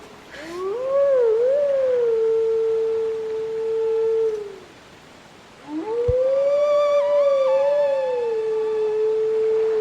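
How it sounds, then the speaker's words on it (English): A wolf howls in the Zelda: Twilight Princess game on GameCube: two long, loud, sustained howls with wavering pitch, separated by a short pause and heard alone. "He looks like he's having fun howling away."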